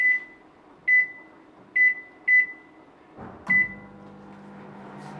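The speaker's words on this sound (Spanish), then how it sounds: "Lo colocamos en el microondas durante 1 minuto." A microwave oven heating a bowl of pink chocolate melts gives out a series of sharp electronic beeps as it is set, then the door thuds shut and a steady low hum begins as it runs.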